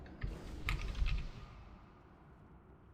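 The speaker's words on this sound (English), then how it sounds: "Oh, the stuff I was typing?" Computer keyboard typing, a short burst of quick, soft keystrokes close by that stops after about a second, leaving quiet room tone.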